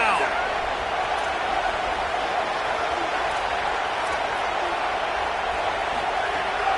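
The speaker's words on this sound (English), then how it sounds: "The Tide crowd rolling noise down onto Saban Field on third down." Simulated crowd noise at Saban Field during Alabama versus Texas on third down in a college football video game, a steady loud roar throughout with commentary talk over it.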